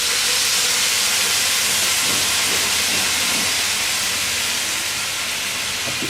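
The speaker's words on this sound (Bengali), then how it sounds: "এর মধ্যে আমি অল্প একটু পানি দিব যাতে ভাত মশলা আমরা পুড়ে না যায়" A little water poured onto hot spices frying for a Bangladeshi loitta dried fish curry sends up a loud, continuous steam hiss that holds steady and close for about six seconds, with no voices.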